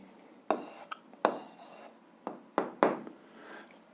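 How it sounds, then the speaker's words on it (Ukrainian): Pen writing an answer by hand, a series of five or so short, scratchy strokes at an uneven pace, close and quiet with no voice. "записуємо відповідь, пишемо відповідь"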